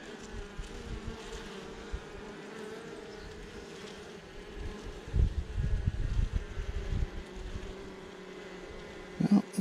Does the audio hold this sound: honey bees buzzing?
yes